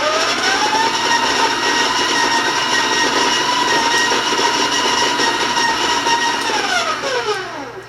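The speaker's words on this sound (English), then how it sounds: "I'm going to warn you about the sound of the mixer." Stand mixer creaming butter for cookies, a loud steady whirring motor hum with a grinding rattle, close up, winding down at the end with no talk.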